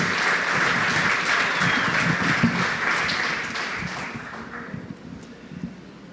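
A church congregation bursts into full applause for a pastor, a loud, thick spread of clapping that holds steady and then tapers off toward the end.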